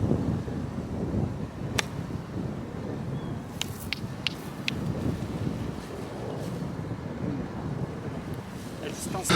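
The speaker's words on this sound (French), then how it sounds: "il y a beaucoup de vent là" Strong wind buffets the microphone on a golf course at Golf de Roissy, a steady low roar of gusts filling the whole stretch with a few faint clicks.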